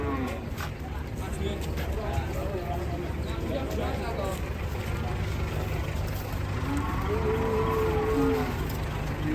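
Horned cattle at Muntilan livestock market low and moo amid a steady crowd murmur, with a clear drawn-out moo near the end over constant background chatter and market bustle.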